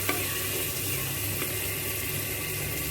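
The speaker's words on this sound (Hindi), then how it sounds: "तो अब इसको मिक्स करके इसके अंदर डाल देंगे लौकी" Bottle gourd goes into a pan of sizzling spiced black chickpeas and is stirred, giving a soft, continuous frying hiss with faint scraping and small clicks at a moderate distance, no voices.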